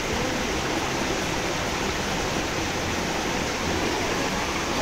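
River water rushes steadily at Salto Mili Mili, a loud, unbroken hiss of flowing water close by, with no pauses and no other sounds on top.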